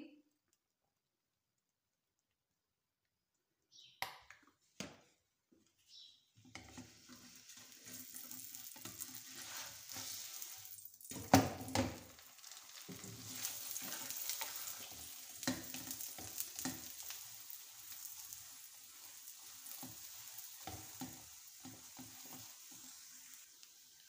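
A chicken keema paratha sizzles in oil on a hot pan, opening with a few sharp clicks and clatters before a steady crackling fry takes over. A voice can be heard faintly beneath the sizzle.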